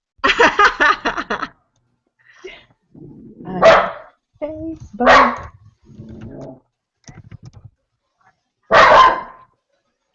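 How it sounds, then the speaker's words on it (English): A dog barks loudly in several separate bursts, close by, between stretches of people talking and some laughter. "Can you hear my dog?"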